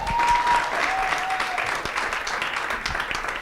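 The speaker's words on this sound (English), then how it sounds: "Let us clap hands once again." Audience applause fills a book club launch gathering at a university library, steady dense clapping held throughout at moderate loudness, with a faint voice briefly audible over it.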